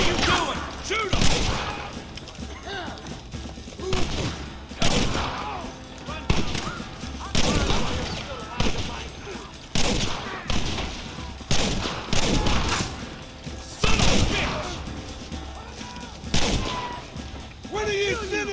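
Repeated gunfire from a shootout in the Red Dead Redemption video game, with loud bursts of shots and heavy booms recurring every second or two, mixed with shouting voices and battle noise.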